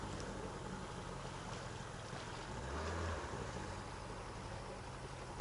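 A Gladiator 9.8 outboard motor on a black boat hums faintly and steadily from a distance on open water, with wind and gentle water noise around it.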